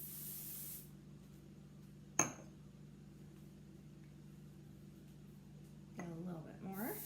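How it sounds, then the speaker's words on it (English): Hair product from a spray can misted onto a hand: one short, sharp spritz stands alone in a quiet room, followed later by faint rubbing and handling sounds. "I just spray a little on my hand."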